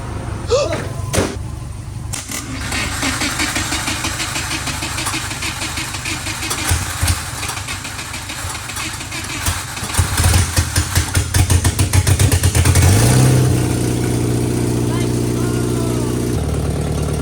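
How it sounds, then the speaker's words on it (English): An abandoned Subaru 2.5RS is started by bridging the starter: a stretch of cranking and clatter gives way to the engine catching and settling into a steady idle, close by, with voices and a door slam around it. "So we're gonna bridge the starter and see if we can drive this thing."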